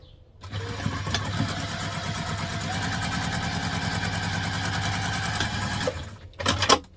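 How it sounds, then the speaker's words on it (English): A sewing machine runs a continuous straight seam on a crossbody bag at construction stitch length, steady and close for about five seconds, then stops with a few short clicks of handling. "The first line we're going to stitch along is the straight line."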